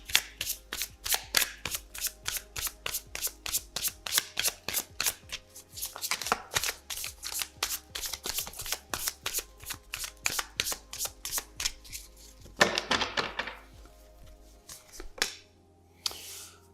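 Tarot cards being shuffled by hand in a quiet room, a long run of crisp riffling snaps in steady rhythm, close and fairly soft, with a few pauses near the end.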